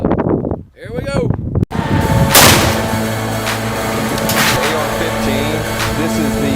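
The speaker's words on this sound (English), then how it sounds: "we're going to be doing a black powder charge and shooting some number 8 shot at about 10 yards" A 20 gauge shotgun fitted with a muzzleloader adapter fires a black powder charge of number 8 shot, one sharp loud blast near the start, followed by rumbling wind and outdoor noise.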